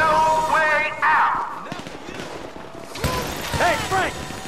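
Gunfire in the video game Grand Theft Auto 5 during a heist, with bursts of shots and impacts mixed under in-game voices talking.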